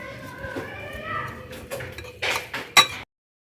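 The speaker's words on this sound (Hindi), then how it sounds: "वो मैं इसमें शामिल कर लूँगी, और इसको अच्छी तरह मिक्स कर लेते हैं" Spiced potatoes are mixed with lemon juice in a pan, with soft scraping stirs followed by a few sharper clinks of the spoon against the metal, close by, over faint background noise.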